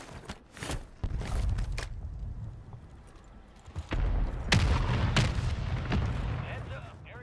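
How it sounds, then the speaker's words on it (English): Mortar strike explosions in a Call of Duty match, several heavy booms landing in quick succession with loud low rumbles, mixed with gunfire and other battle noise while voices talk over the action. "Mortar strike inbound."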